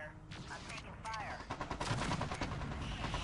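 Enemy mechs in the MechCommander 2 video game fire their weapons in a burst of rapid gunfire-like shots, growing denser and louder toward the end, with a voice briefly heard early on.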